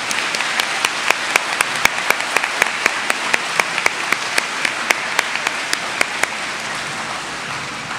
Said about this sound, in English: Let's give her another round of applause.